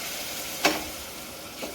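Masala with red chilli and a splash of water cooks in oil in a pan, giving a steady close sizzle with one brief louder spit and a fainter one later.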